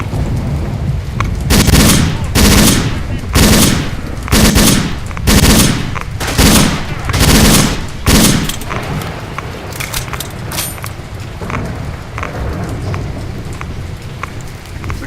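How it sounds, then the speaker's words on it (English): Machine pistol fire in Oblivion Lost, a STALKER mod, crackling in about eight loud, rapid bursts across the first half, then fading to a quieter, scattered tail of distant shots and ambient rumble. "Machine pistol."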